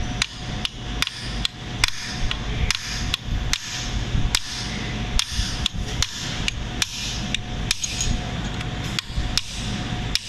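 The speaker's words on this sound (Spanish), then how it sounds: "Lo apoyas en esta orilla para que lo golpees en sentido de aflojar la roca" A hammer strikes a steel punch to loosen a part in the head of a LAGUN FTV-1 industrial milling machine, heard as loud, sharp metallic blows in a steady repeated rhythm over a constant workshop hum.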